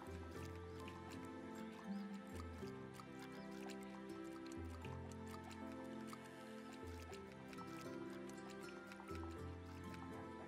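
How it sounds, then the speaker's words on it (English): A bucket of water is poured over crops in a pirate-themed farming video game, with soft squishing, dripping splashes under continuous game music. "I'll run around with a bucket of water now and water it all"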